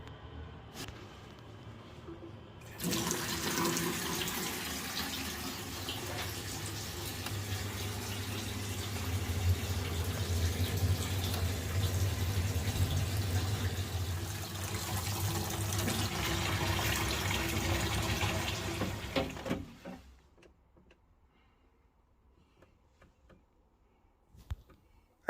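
Water runs steadily through a newly repaired boiler's pipework for about seventeen seconds, a continuous broadband rush that then stops abruptly, leaving near silence with a faint click at the end.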